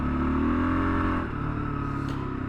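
A Kawasaki KLR650S motorcycle engine drones steadily while being ridden, a tonal rumble that eases off partway through with a faint clatter, heard close with wind noise.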